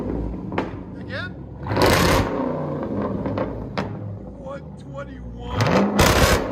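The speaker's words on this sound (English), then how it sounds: "Dodge Durango SRT 2021. True dual straight pipe." A 2021 Dodge Durango SRT 392 6.4L HEMI V8 with true dual straight pipe exhaust rumbles at idle and bursts into a few loud revs, with a person talking over the engine.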